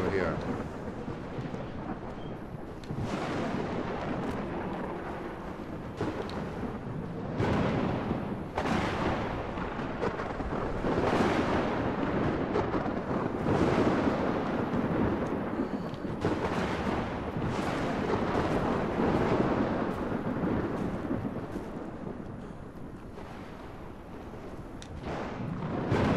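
Thunder and lightning storm in the video game Ark: Survival Ascended, with repeated loud rumbling crashes and rolling booms, steady and dense throughout, with no one speaking.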